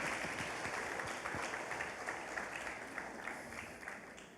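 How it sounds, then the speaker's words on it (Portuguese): An audience at a church seminar claps in steady, dense applause that fills the space, sustained throughout and fading slightly at the end, with no talk over it. "Pode aplaudir."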